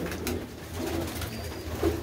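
Low, rolling coos from a loft of pigeons in coops at Baba Bittu's place in Dhamot, several birds layered close by in a short continuous burst with no talk.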